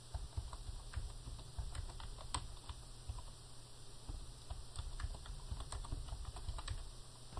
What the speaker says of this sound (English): Press my tab key a couple of times.